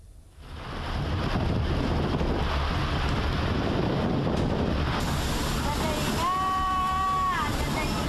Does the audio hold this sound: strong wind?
yes